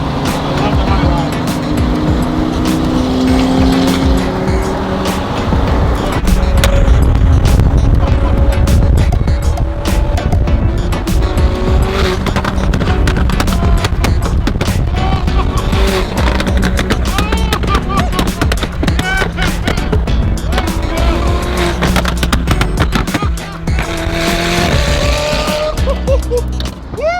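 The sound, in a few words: car with tuned aftermarket exhaust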